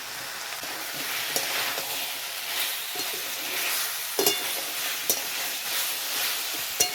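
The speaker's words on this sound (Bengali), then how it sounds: "তো আমার সব মশলাগুলোর সঙ্গে এখানে মাংস এবং পেঁপেটা কষানো হয়ে গেছে।" Chicken pieces and papaya sautéing with coriander and cumin powder in a pan: a continuous close sizzle with frequent scraping and clacking of a spatula stirring, and no speech.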